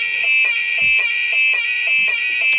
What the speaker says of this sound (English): When I enable the AC,